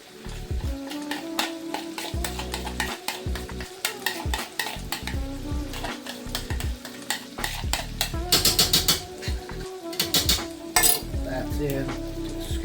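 Chicken coated in a sauce mixture is stirred in a pan for Vietnamese BBQ lemongrass chicken, with steady scraping and clinking strokes over a continuous sizzle that swells louder toward the end.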